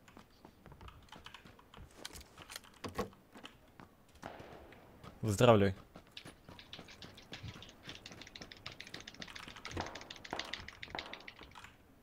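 Computer keyboard struck hard and typed on rapidly during a PUBG match, dense clattering taps with one loud slam in the middle, close, mixed with a voice talking.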